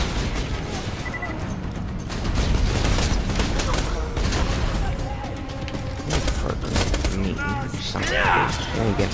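Rapid explosive-round gunfire from Borderlands 2 crackles in dense, loud bursts throughout, layered with booming impacts, game effects and someone talking over the action.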